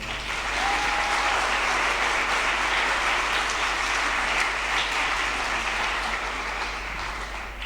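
A concert audience at a high school jazz concert applauds the principal, a dense, steady wash of clapping that fills the hall and holds for several seconds before slowly thinning.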